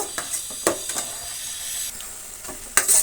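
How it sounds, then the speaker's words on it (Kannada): Tamarind juice for vegetable tamarind rice fries down in a pan with a hissing sizzle, broken by a few sharp stirring scrapes and clinks nearby, with no speech. "ಹುಣಸೆ ರಸ ಎಲ್ಲ ನೋಡಿ ಈ ರೀತಿ ಫ್ರೈ ಆಗಿಬಿಡಬೇಕು"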